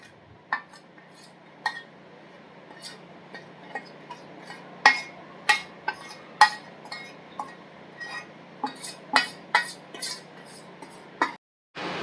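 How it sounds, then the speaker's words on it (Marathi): Jaggery paste is scraped into a small metal pot, giving repeated clinks and taps of a spoon against the metal at an irregular rhythm, some sharper and louder, over a quiet background hum. "हा लेप ना या पातेल्यामध्ये व्यवस्थित असा टाकून द्यायचा."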